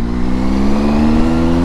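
Motorcycle engine revving steadily while taking a hairpin bend on the 36-hairpin mountain road to Ooty, a loud, close, continuous droning hum with no talking.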